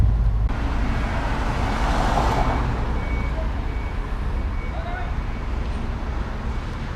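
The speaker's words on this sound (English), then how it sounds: "There's like pallets and pallets of produce being hauled around on forklifts." Forklifts reversing at a busy wholesale produce market in Los Angeles at night give off faint, intermittent beeps buried under a steady wash of crowd and machinery noise, with voices around.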